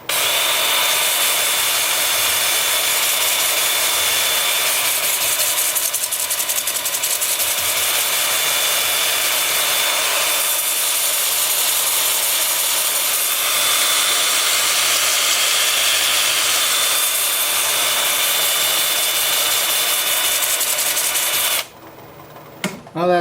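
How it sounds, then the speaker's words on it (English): A 2-inch sanding disc works a large ponderosa pine turning spinning in reverse on a wood lathe. It gives a continuous high whirring grind with slight swells, then cuts off abruptly near the end. "And then my 2-inch disc with the piece spinning in reverse at about 330."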